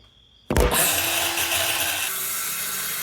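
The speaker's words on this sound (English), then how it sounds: "the first thing I did with this build is cut the 3/4 inch plywood sheets with a circular saw" Circular saw cutting through 3/4 inch plywood sheets, bursting in abruptly after a quiet moment and then whining loudly and steadily as the blade bites through the wood, close by.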